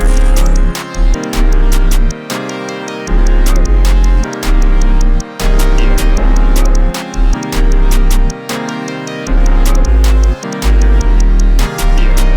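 A drum beat built in FL Studio pounds out loud and dense, with heavy booming bass kicks that drop out in irregular gaps, crisp hi-hats and snares driving an unpredictable pattern.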